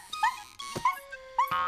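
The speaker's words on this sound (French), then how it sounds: "Clafoutis est mon petit chien." Small cartoon puppy from the Charlotte aux Fraises animated series giving three short high yips and whimpers, close and clear, spaced across the moment with no talking.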